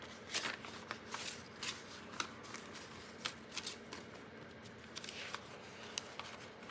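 Coffee-dyed paper cutoffs rustle and shuffle close by in a quiet room, a steady papery patter of soft crinkles and light taps going on continuously without talk.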